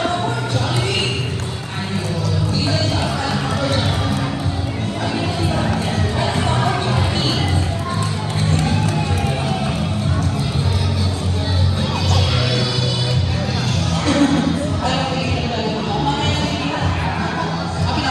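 Guests at a family birthday party with a Jollibee mascot make a loud, dense crowd din of clapping, cheering and shouting that runs throughout.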